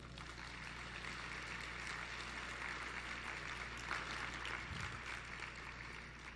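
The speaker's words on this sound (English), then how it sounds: "Ladies and gentlemen, I think you should give them a big clap." Conference audience applause in a hall, a steady, faint wash of clapping held evenly for several seconds with no voices over it.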